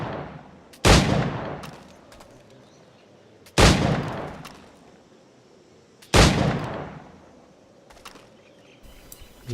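Three loud, sharp gunshots ring out at even intervals of a few seconds in an Assassin's Creed IV target-shooting challenge, each one followed by a short decaying echo over quiet ambience.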